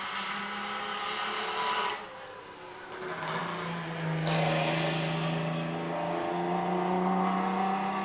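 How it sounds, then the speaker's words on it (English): A 1933 MG K3 race car with a fishtail exhaust at a historic sprint event gives a loud, raspy engine note that drops briefly, then rises and holds with a steady, droning pitch as it revs. "This is the 1933 MGK3. Listen to the exhaust on that, the fishtail exhaust."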